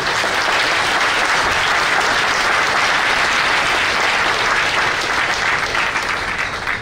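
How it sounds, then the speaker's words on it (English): Loud, sustained applause fills the room at an NYPD scholarship dinner, a thick, even wash of many hands clapping with no break for nearly seven seconds. "can we all have a round of applause for these individuals?"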